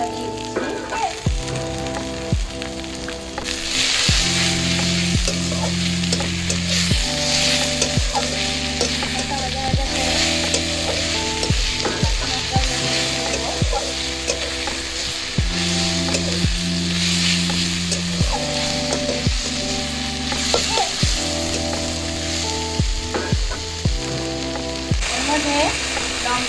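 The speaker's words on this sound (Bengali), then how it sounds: "পেঁয়াজগুলো ভাজা ভাজা হয়ে গেছে, এর মধ্যে আমি আদা ও রসুন বাটাটা দিয়ে দিচ্ছি।" Fried onions sizzle in a pan as ginger and garlic paste goes in for a jackfruit curry. A steady, bright hiss swells after the first few seconds and runs continuously beneath prominent background music.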